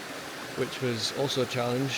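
A river crossed on a hike in New Zealand flows with a steady, soft rushing noise under someone speaking close by.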